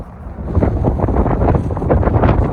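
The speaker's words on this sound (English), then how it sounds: "It's really cold and windy up here, up on the hill." Steady wind buffeting a microphone on a cold hilltop, a loud low rumble with gusty surges throughout, no voices.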